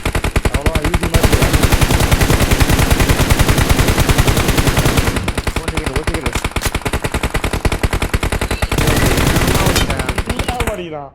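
Rapid automatic gunfire in a battle royale video game fight, long loud bursts of fast repeated shots that pause briefly and resume, with players talking over the action.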